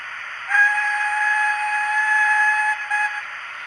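A Hornby Schools Class model locomotive's TTS sound unit sounds a sustained whistle in two bursts, clear and steady, one long tone with a short break near the end.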